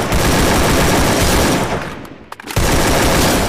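Loud, close automatic gunfire from the Free Fire mobile battle game, a dense continuous barrage that briefly drops away near the end before resuming at full intensity.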